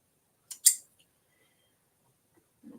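Scissors give two quick crisp snips while cutting quilting fabric for a pieced quilt block, close and clear against near silence, followed by a faint soft rustle.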